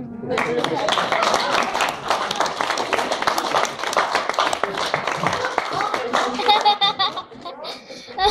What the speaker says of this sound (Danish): Så klapper vi.